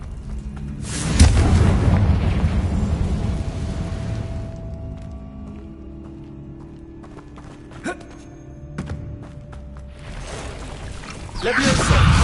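Confringo blasting spells in the video game Hogwarts Legacy, a loud booming burst that rumbles away, a quieter stretch with light clicks, then another heavy blast at the end.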